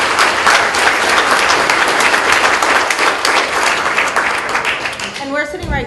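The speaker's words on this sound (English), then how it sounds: "So let's give them a round of applause." A room of attendees at a local tech meetup claps steadily and fairly loudly for several seconds, dense overlapping applause that tails off as a voice begins speaking at the end.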